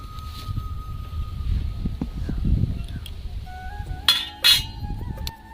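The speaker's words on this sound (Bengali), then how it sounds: "উনুন জেলে নিয়েছি, তো এবার আমি কড়াই বসিয়ে দেব।" A kadai set down on a lit stove for making mango bhapa doi gives a couple of sharp metallic clinks near the end, after low handling noise and faint background hum.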